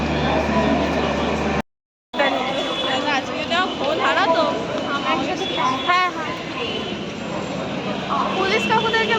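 Busy ambience at Howrah railway station, with train and platform noise beneath constant crowd chatter and nearby voices. The sound cuts out briefly near the start, then resumes.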